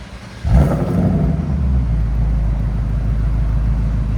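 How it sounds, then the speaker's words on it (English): A stock 2025 Ford Mustang Dark Horse with active exhaust, before an X-pipe is fitted, gives one sharp rev blip, then settles into a deep, steady idle rumble close by. "2025 Dark Horse. This is what it sounds like before."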